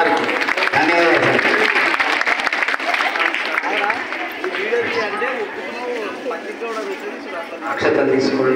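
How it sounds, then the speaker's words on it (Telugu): An audience of pupils and guests claps at a school Saraswati puja. Bursts of applause come at the start and end, and a voice talks loudly over the quieter middle. "సో మనందరూ ఒకసారి చప్పట్లు కొట్టాలి సార్కి."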